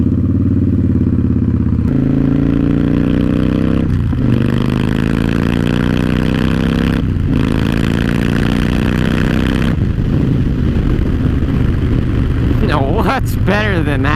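Victory Vegas motorcycle engine on the move, a loud, close, continuous mid-pitched roar that rises through several gear shifts with short breaks between them, alone with no voices.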